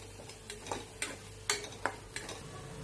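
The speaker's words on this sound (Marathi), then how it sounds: "1 चमचा गरम मसाला टाकून हे सगळं परतून घेत आहे" Masala paste of onion-garlic spice and garam masala sautéing in a pan, heard as a quiet run of scattered stirring ticks and light scrapes about every half second, no voices.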